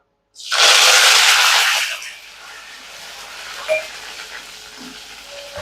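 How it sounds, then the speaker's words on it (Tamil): Mustard seeds, dried red chillies and curry leaves hit hot oil with a sudden loud burst of sizzling that fades over two seconds into a softer steady crackle, with a few faint clinks. "கடுகு நல்லா பொரிஞ்சிருச்சு. காஞ்ச மிளகாய் சேர்த்துக்கலாம். கறிவேப்பிலை சேர்த்துக்கலாம்."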